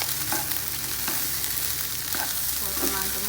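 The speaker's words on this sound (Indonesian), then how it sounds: "Diaduk terus ya teman-teman. Kita campur ini garam sama gula ya" Indonesian kampung fried rice stirred and frying in a pan while salt and sugar are mixed in, a steady loud sizzle with repeated scraping strokes of the spatula close up.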